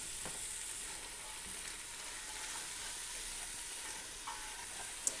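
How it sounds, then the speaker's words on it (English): Onions sizzle in bacon grease in a pan while being stirred, a soft continuous crackle with occasional scrape accents, fairly quiet and alone. "gonna pour all of our onions in, and they're not gonna stick to the pan because we're using all that bacon grease to keep it going"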